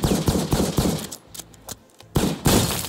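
A Sheriff pistol in Valorant fires at a door on the Lotus map in loud, close shots, a quick cluster early, a pause with sparse impacts, then two more heavy bursts.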